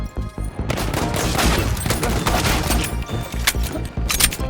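A World War I pistol fires in a video game, a rapid string of sharp, loud shots cracking close by in quick succession with short gaps between bursts. No one speaks over the gunfire.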